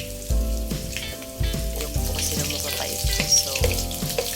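Onion sautéing in a pan for a mung bean dish, with a crackling sizzle punctuated by repeated knocks and scrapes of a spatula at irregular intervals.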